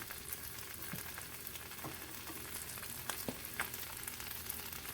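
Ramps frying in a pan, a steady close sizzle with faint scattered pops and occasional stirring clicks, no voices.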